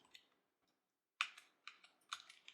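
Keys on a computer keyboard are typed into a plugin search field in a quiet room, first a couple of soft taps, then after a pause a quick burst of close clicking keystrokes.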